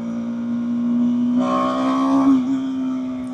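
A 2024 BMW G 310 R single-cylinder motorcycle idles with a steady hum, then revs sharply for about a second before settling back to idle.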